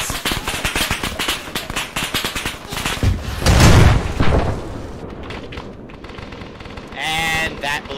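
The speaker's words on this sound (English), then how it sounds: "Gonna start popping that tank with rockets." Video game combat with a rocket launcher firing at a tank: rapid machine-gun bursts and booming blasts, a heavy low explosion in the middle, then quieter gunfire with a voice briefly audible near the end.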